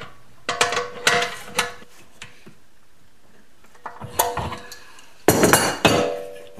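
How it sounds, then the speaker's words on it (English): Metal clanks and clinks from a large crescent wrench tightening 27 mm oil pressure fittings on a 1973 Honda CB750, in several short bursts of close, sharp clatter with quiet gaps between. "I'll just get out the big old crescent wrench here"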